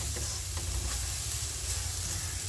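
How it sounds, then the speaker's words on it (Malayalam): Shallots and garlic fry in oil for a dried shrimp chutney, producing a constant, close, hissing sizzle with faint stirring underneath. "ചെറിയുള്ളി, വെളുത്തുള്ളി, അങ്ങനെയുള്ള ചേരുവകളൊക്കെ നമുക്കിഷ്ടമുള്ള സംഭവങ്ങളും ചേർത്ത് നന്നായിട്ട് മൊരിച്ചെടുക്കുക, വറുത്തെടുക്കുക."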